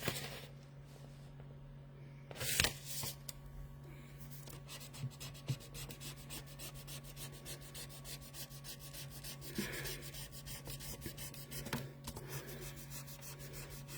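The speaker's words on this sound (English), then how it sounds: "See if I can rub that out." Pencil lines are rubbed out with an eraser on a sheet of wood, giving soft, close scrubbing strokes over a steady low hum, with a couple of sharper knocks and no speech.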